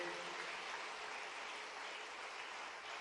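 A National Youth Day audience at a Swami Vivekananda Jayanti event claps steadily, a faint, even wash of applause heard from a distance without pauses.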